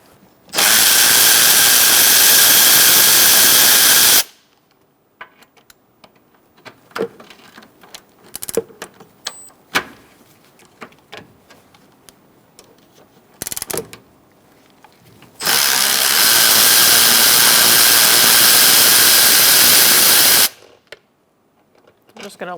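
A power tool removing three bolts from the bottom half of the airbox on a 2002-2006 Toyota Camry, with two long, loud, steady whirring runs separated by a stretch of quiet clicks and small handling sounds.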